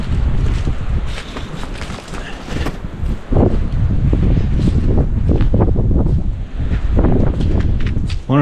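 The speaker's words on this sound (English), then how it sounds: "It's super windy." Strong wind buffets the microphone in loud, rumbling gusts that roar steadily throughout, beside bunkers of an abandoned fortress along the Mississippi, with no voices.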